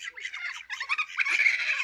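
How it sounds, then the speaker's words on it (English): A gibbon, loose in the countryside, gives a shrill, hooting call in quick rising bursts, loud and alone with no talk over it. "That was a monkey of some kind. A gibbon."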